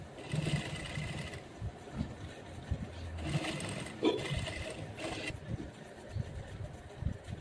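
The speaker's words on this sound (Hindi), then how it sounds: "नीचे की तरफ इनर रखते हुए ऊपर की तरफ मेन फैब्रिक को रखते हुए हम इस पर स्टिच लगा लेंगे" A sewing machine stitches a seam joining an inner lining beneath the main fabric of an old gown, whirring in several short, fairly quiet runs separated by brief pauses.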